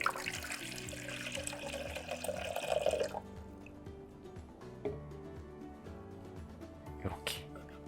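Water pours into the outer pot of a two-part self-watering planter while the inner pot is lifted, a running, splashing trickle for about three seconds, then quieter drips and small knocks.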